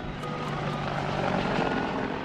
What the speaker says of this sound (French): Un hélicoptère Apache survole un quartier de Bagdad.